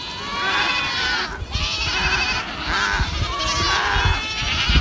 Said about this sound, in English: we got Billy the Goat taking a big, mean old line down the north face there